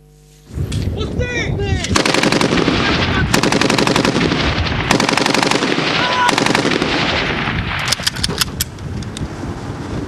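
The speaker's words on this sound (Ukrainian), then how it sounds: "стріляють бойовими патронами" Actors training as Ukrainian soldiers fire live rounds in dense, loud bursts of automatic gunfire that run almost without pause, with sharp single shots and echo trailing off near the end.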